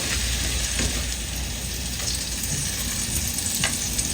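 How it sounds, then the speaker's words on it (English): Butter melts in a pot on the stovetop for candied yams, giving a continuous close, crackling sizzle with tiny pops and spits, steady and fairly loud throughout. "Let's add our butter to the pot. Allow that to melt down before we add anything else."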